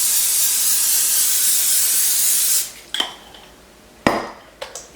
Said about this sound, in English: I'm going to go ahead and get some spray on it